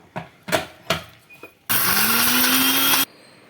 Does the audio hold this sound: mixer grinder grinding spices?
yes